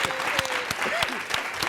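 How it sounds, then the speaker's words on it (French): A studio audience on a French-language TV talk show claps for a guest, brisk, many-handed applause with a few sharper individual claps and faint voices mixed in. "On va applaudir pour ce monsieur."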